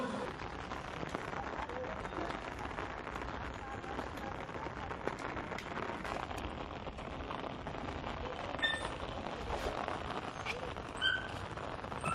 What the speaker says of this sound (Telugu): రాష్ట్రంలో వారం రోజులుగా వర్షాలు దంచి కొడుతున్నాయి